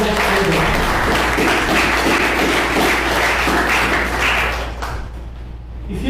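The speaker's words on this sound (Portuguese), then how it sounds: "Dá uma salva de palmas" A church congregation gives a round of applause during a sermon, a thick wash of hand clapping that holds steady for about four seconds before thinning out and fading, with a low hum underneath.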